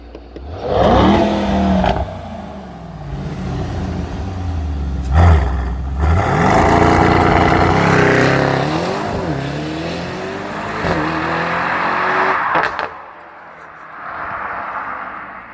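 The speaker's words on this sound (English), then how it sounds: "The car is loud." Mercedes-AMG E63S 4Matic+ Estate launching hard from a standstill, heard from outside: a loud engine roar climbing through gears with sharp shift breaks, then fading as the car pulls away, no talking.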